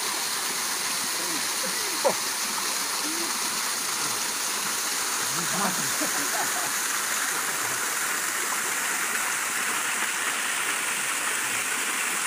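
Continuous hiss of falling water from a small cascade, steady and close, with a few faint splashes and distant voices.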